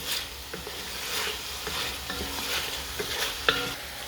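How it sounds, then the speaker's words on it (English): Green bell peppers stir-fried in a pan with steady sizzling and occasional clinks of a utensil against the metal, close and alone without talk. "These ones I'll stir cook for a minute and take them off."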